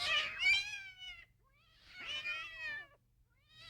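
Cats yowl and caterwaul in two long, wavering, drawn-out cries separated by a short pause, with a third starting at the end, heard alone without talking.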